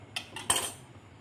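A knife slices a rolled roti in half on a kitchen surface for samosa making, giving three quick, crisp clicks and scrapes close by, the last one loudest.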